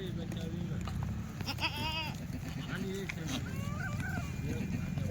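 Kathiawadi goats bleating in a group, several wavering calls at different distances over constant background noise while someone talks throughout.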